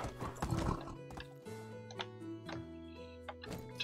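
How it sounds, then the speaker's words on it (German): Horse in the medieval life-simulation game Medieval Dynasty, whinnying and neighing with clip-clopping hooves, loud and close, with no talk over it. "Mein armes Pferdchen hier."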